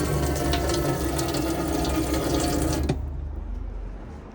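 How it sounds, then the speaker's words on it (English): Steady, loud rush of water from a pump-fed tap in a Burstner Elegance 591 motorhome, running continuously before cutting off and fading to a low hum. "which means that we'll have water coming through the tap."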